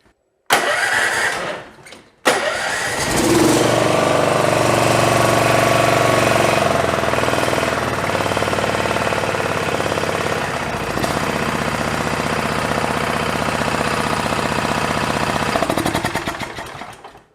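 A Honda Harmony H1011 lawn tractor engine, its muffler full of oil, coughs briefly, cuts out, then starts and runs steady and loud up close for the rest of the stretch.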